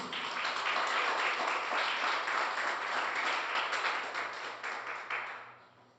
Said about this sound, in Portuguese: Você pode dar mais um aplauso ao Senhor Jesus?